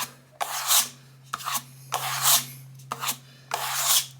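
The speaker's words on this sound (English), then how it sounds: "Trowel it into nothing." A plastering trowel rasps across a wall as skim filler is smoothed on, giving about six close, scraping strokes in a steady rhythm with short pauses between them over a low constant hum.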